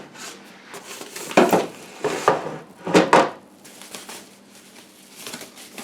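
A new air fryer is unboxed and opened, with several bursts of rustling, scraping and clattering from packaging and plastic parts, separated by quieter pauses and close to the listener.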